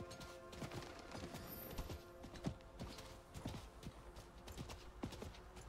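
Horse hooves clip-clop steadily while riding in Diablo 4, a quick even rhythm of close, crisp hoof strikes over a busy game ambience with no talking.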